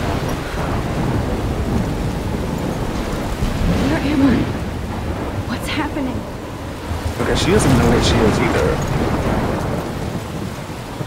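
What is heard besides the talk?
thunderstorm in video game Life Is Strange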